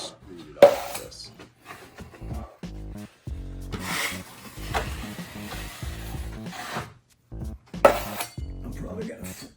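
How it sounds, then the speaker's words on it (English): A 10-inch drywall knife scrapes and screeds joint compound across a wall patch, making repeated rasping, scraping strokes with occasional sharp metallic clicks and taps, close and uneven in rhythm. "he changes over to a 10-inch knife for screed it off"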